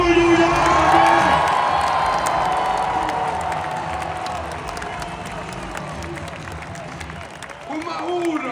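An arena crowd at a Finnish ice hockey gold-medal celebration cheers and shouts loudly as player Jesse Puljujärvi is introduced. A dense roar rises at the start over an amplified announcer's voice, then settles into sustained crowd noise.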